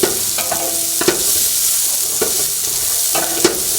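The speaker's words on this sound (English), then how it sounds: "so I'm frying up some onions." Steady sizzling of onions frying in hot oil, with a few sharp clinks and scrapes of a utensil stirring the pan at irregular intervals.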